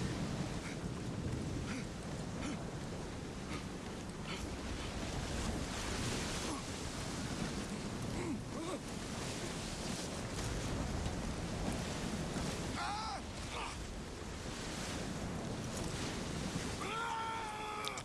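Stormy sea waves and howling wind in Assassin's Creed IV: Black Flag Freedom Cry make a constant roaring wash of surf and gusts, with faint brief voices near the end.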